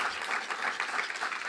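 Audience applause for a chef rattles steadily at a moderate level in a short burst of many hands clapping, with no voices standing out.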